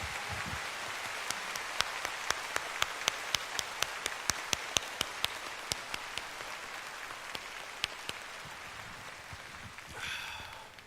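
Audience applause fills a Hong Kong concert hall, a steady dense wash of many hands clapping with scattered sharper individual claps standing out, sustained and fairly distant for the whole stretch before tapering at the end.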